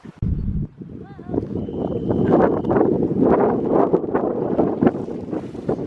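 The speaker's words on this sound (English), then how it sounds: "The wind keeps going on and off and in different directions too" Gusty outdoor wind rumbles and buffets the microphone almost without a break on a kite outing among trees in Germany, loud and shifting in strength throughout.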